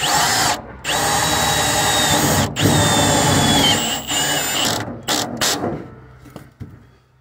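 A power drill whirs loudly in long bursts with ratcheting, changing pitch as it drives a screw into a vehicle floor, pausing briefly between runs before trailing off.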